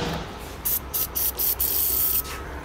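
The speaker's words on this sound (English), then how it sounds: "Something that sprays. What is it? Belt dressing." Belt dressing aerosol sprayed onto a car part, four or five short hissing bursts in a row followed by one longer spray, close and clear, no talking.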